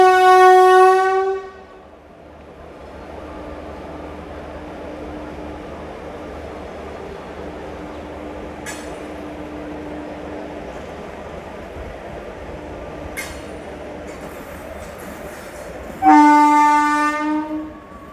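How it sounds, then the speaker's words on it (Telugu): A MEMU train leaving Machilipatnam railway station sounds two loud horn blasts, one at the start and one near the end, with a steady running rumble and a couple of sharp clanks between them. "ఆన్ టైంకే మన ట్రైన్ మచిలీపట్నం రైల్వే స్టేషన్ నుంచి అయితే బయలుదేరిపోయింది"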